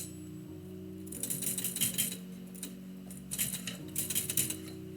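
Typewriter keys clatter in two quick bursts of rapid mechanical strikes over a steady low hum, close and fairly loud, with no talking.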